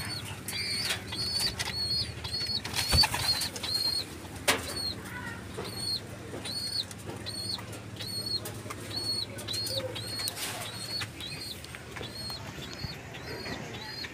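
Repeated short chirping calls ring out over a steady low hum, with bursts of wing flapping from female racing pigeons breaking through now and then.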